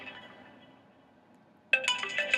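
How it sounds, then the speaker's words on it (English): A phone alarm breaks in suddenly after a faint quiet stretch, playing a bright, melodic electronic ringtone that starts abruptly and continues loud to the end. "It's my alarm to take my pre-workout"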